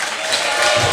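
A crowd at a carnival song contest in Geleen claps steadily in continuous applause, a dense, even wash of hands without a break.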